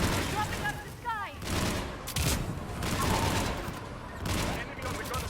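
Gunfire in the video game Mass Effect 3 Legendary Edition, loud bursts of automatic weapon fire and booms in a combat scene, with voices calling out over the shooting.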